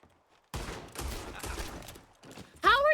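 Rapid volley of gunfire in the Western video game Red Dead Redemption 2, dense loud cracks bursting after a brief near-silence and then fading, followed by a sharp, whining, rising and falling tone at the end.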